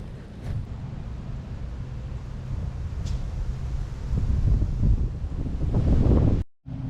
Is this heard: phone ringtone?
no